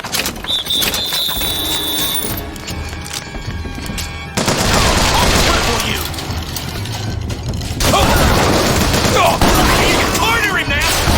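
Heavy gunfire in the video game Bioshock Infinite, with rapid bursts and booming shots running continuously and loud, mixed with shouting voices and game sounds.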